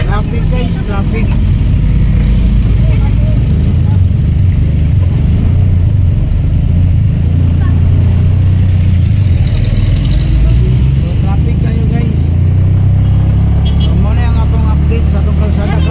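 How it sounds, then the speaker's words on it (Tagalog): Dense, loud road traffic in Davao city, a steady rumble of car, bus and truck engines close by, with someone talking over the noise throughout. "Traffic guys, traffic."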